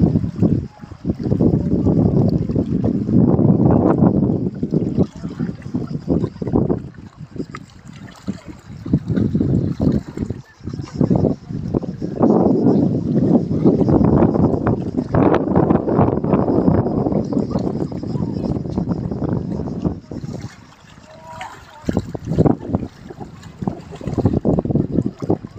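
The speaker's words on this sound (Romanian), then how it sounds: "Este vânt" Wind blows through a small hidden cove at Zrnjevo on Korčula, making loud, gusty rumbles that rise and fall across the whole stretch, with water lapping and a few brief voices underneath.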